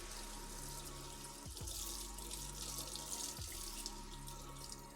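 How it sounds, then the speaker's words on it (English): Tap water running steadily into a kitchen sink while a pot is rinsed under it, with a continuous splashing hiss and a couple of clunks of the pot being moved, close and loud with no talking. "Okay, rinse her off."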